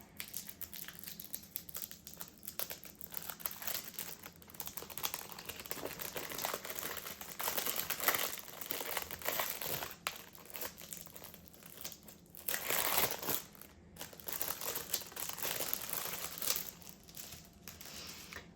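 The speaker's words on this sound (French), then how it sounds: "j'ai du papier qui colle" Sticky paper being crumpled and peeled while unboxing ordered challenge items, a continuous crackling and crinkling that swells and fades in bursts, close and fairly loud with no talk.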